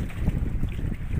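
Steady, heavy wind rumble buffets the microphone in low, continuous gusts with no pauses, loud and close, as if standing in a strong open-air blast.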